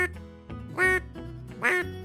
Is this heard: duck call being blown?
yes